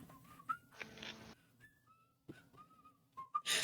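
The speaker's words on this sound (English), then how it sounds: "It's a whistling theme." A whistled Heroes theme melody plays from an in-game radio in Battlefield 6: a thin, wavering tune of short and held notes, moderately quiet, with a brief burst of noise in the middle.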